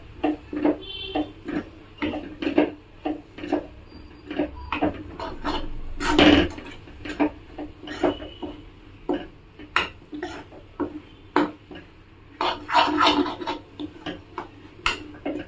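Prawn fry with tamarind leaves being stirred in a pan, a steady run of quick scraping and tapping strokes of a spatula against metal, close and moderately loud, with a faint sizzle underneath.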